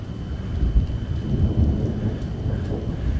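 A thunderstorm over Norman, Oklahoma: low rumbling thunder rolls under steady rain, loud and continuous with no voices.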